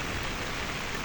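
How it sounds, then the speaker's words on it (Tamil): Heavy rain pours onto a road in Jaffna, a steady, dense, unbroken hiss of water striking the surface, loud and close, with no voices. "எவ்வளோ மழை பெய்யுது."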